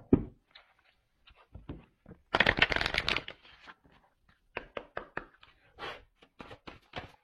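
A deck of tarot cards being shuffled up close: a dense riffling burst in the middle, then scattered crisp flicks and taps of cards being handled, quiet between the sounds.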